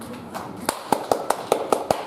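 A church congregation claps hands together in a loose, fairly quick rhythm of about seven sharp claps, close and distinct over a quiet room background.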